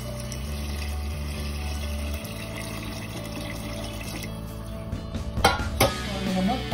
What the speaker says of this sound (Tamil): அளவு தண்ணியை 1:2 சேர்த்துருங்க